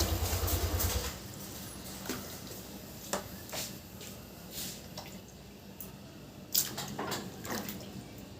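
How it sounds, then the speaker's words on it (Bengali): Baby girl splashing and playing in water, with soft drips and scattered slaps of water against a low wet background, a few louder splashes standing out near the end. "দেখি তুমি কতক্ষণ জল ঘাটতে পারো"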